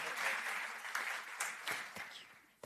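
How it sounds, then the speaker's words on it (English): Applause for a panel at the Vienna Food Safety Forum, a dense wash of clapping with a few sharp individual claps, fading gradually toward the end. "Big round of applause for a fantastic panel."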